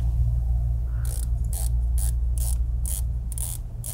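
Bezel of an OMEGA Seamaster 300 dive watch turned by hand, a sharp, close ratcheting click repeated about eight times in an even rhythm over a low steady background hum.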